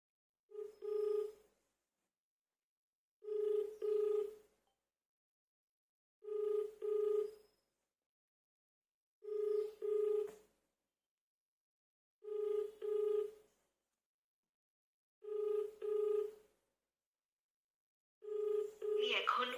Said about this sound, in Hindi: तो चलिए मैं फोन करता हूँ, अभी देखते स्पीकर पे रखूंगा